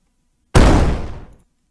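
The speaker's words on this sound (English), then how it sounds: "So let's do explosion, fire, gas." A large explosion sound effect with fire and gas, meant for a ship impact in a video game: one sudden loud blast that rumbles and fades over about a second, heard alone against silence.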